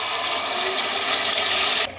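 Water pours steadily into a jug while mutton kaleji is cooked, a continuous rushing, splashing stream that stops abruptly near the end.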